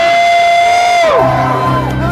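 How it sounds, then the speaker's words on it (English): A concert audience screams and cheers at full volume, one sustained high shout sliding downward into a loud, continuous crowd roar. "But I want you all to scream for Jack because it's his birthday."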